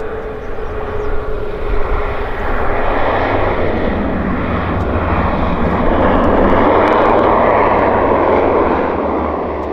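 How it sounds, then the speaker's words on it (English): A Pacific Coastal Beech 1900 turboprop airplane roars loudly and steadily nearby at Vancouver International Airport, its engine drone swelling slightly as it moves, with no voices. "It's a Beech 1900."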